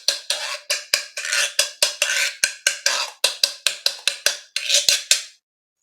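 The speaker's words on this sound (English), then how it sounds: "This, what they call the fish, the gyro is the technical name of it." Wooden fish-shaped guiro, a hollow carved block with two drilled sound holes, played in a steady run of about twenty sharp, close scraping strokes with brief gaps between them, alone and unaccompanied.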